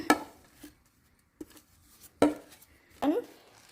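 Nuts such as walnuts tipped into a bowl while making healthy flourless cookies, a few sparse clattering drops scattered over several seconds, close and fairly quiet.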